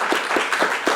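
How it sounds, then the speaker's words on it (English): Applause rises for the panelists at a UN Human Rights Council side event, with a few distinct claps standing out over steady clapping. "This is a very big round of applause to the panelists."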